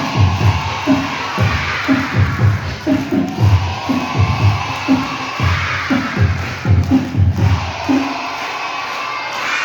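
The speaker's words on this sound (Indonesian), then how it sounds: "Tepuk tangan sambil teriak." Group of children clapping in rhythmic bursts while shouting together, loud and close, repeated several times in quick succession.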